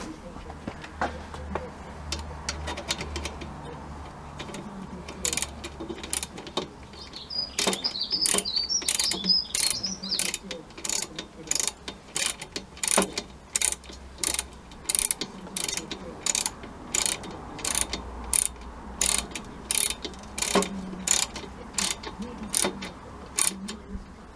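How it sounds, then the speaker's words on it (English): A ratchet clicks steadily in quick repeated strokes while the fan is tightened onto a Honda CB1300 S radiator, sharp metallic ticks in short bursts with brief pauses, close by, over a dull workshop background. "Now how to tighten the fan on."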